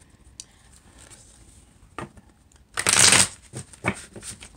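A deck of tarot cards being shuffled up close, a few soft riffles and taps building to one loud, brisk burst of flicking cards before quieter handling.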